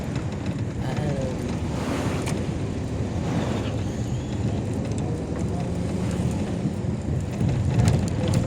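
Rain falls steadily with gusts of wind buffeting the microphone, while low thunder rumbles roll through in the background.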